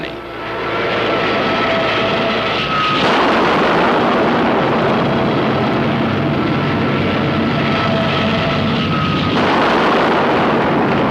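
Heavy, continuous roaring rumble of Korean War artillery fire and napalm strikes, a loud dense wall of blasts and engine-like drone that swells and holds without pause, no voices.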